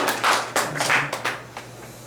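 Church congregation applause during a Sunday service, a short scattered round of clapping with distinct individual claps that thins out and fades within about two seconds.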